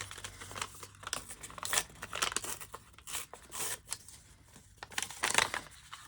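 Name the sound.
crinkling torn paper for a journal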